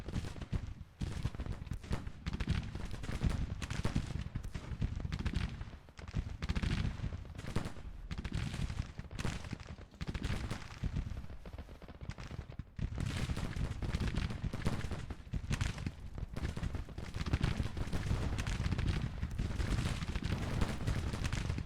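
Civil War musket volleys and cannon fire from the battle game Grand Tactician: The Civil War roll on almost without a break, in dense, loud crackling bursts layered with heavier booms.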